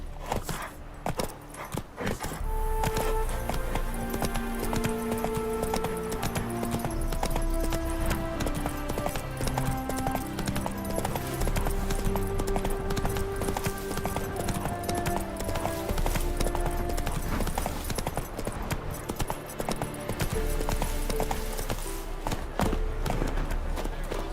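Hooves of the horse Roach clip-clop at a steady gallop in The Witcher 3: Wild Hunt, continuous and fairly loud beneath a dense bed of orchestral game music, with no pauses.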